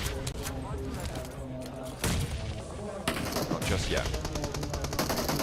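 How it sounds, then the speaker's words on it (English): Rapid gunfire bursts in PUBG Mobile during a tournament match, dense volleys and single cracks layered under continuous commentator speech throughout. "You can see shots actually ringing out across the map towards them"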